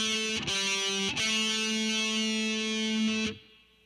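Heavy metal guitar lick from the A pentatonic minor blues scale, played slowly as a few sustained distorted notes with clear pick attacks, loud and alone, ending in a cutoff.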